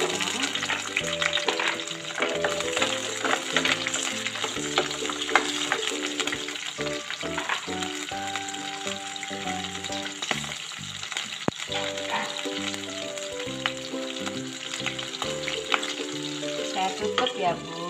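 Chili, garlic and shallots fry in hot oil for sambal bawang. They give a continuous close sizzle with occasional stirring clatter, under steady background music.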